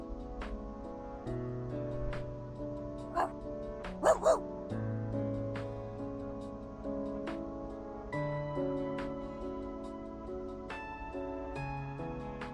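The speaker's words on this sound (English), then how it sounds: "Stop barking." A puppy gives a few short, faint barks in the game Reverse: 1999, including a quick pair of yips over soft background music.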